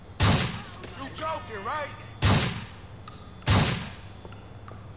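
Three sharp, loud gunshots spaced about a second apart, fired from a new gun in a hallway gunfight in the video game GTA IV: The Ballad of Gay Tony, with a man's brief remark between the first two shots.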